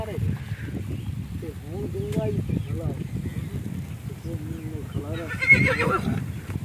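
A horse on a village riding outing neighs repeatedly in wavering whinnies over a steady rumble of hoof steps and outdoor background noise, with a brighter burst near the end.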